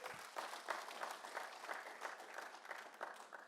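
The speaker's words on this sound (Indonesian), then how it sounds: "Tepuk tangan dong." A church congregation at a Sunday service in Manado claps in a steady, sustained round of applause, faint and roomy with many hands together.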